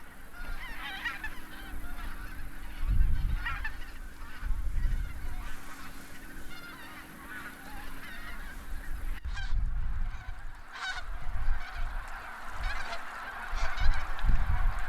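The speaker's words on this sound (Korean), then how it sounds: "부지런한 철새들은 벌써 날아와 부지런히 추수를 끝낸 논에 내려앉는다" A flock of migratory geese honks repeatedly while settling onto harvested rice paddies near Cheonsu Bay in Seosan, South Chungcheong, in autumn, with overlapping calls rising and falling in loud bursts from a fairly close, busy gathering.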